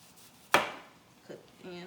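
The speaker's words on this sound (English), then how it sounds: "So you can cut your onion half if you like, but I like to just go down with it" A knife chops an onion on a board with one sharp, crisp thud, followed by a faint second tap and then a voice starting to talk.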